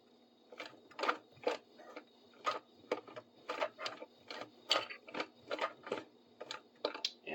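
A sewing machine backstitching leather, rapid rhythmic mechanical clatter of the needle stroking in an even repeating pattern, close and steady with no talk.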